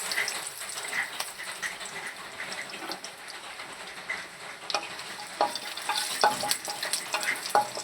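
Dried red chillies and cumin fry in hot oil in a pan, giving a steady crackling sizzle with occasional sharper pops and stirring scrapes throughout.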